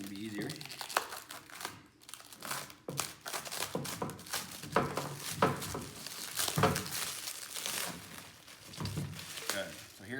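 Plastic wrap crinkling and tearing as a knife cuts open the packaging on a Power Dolly TX6000 machine, busy rustling throughout with a person talking over it.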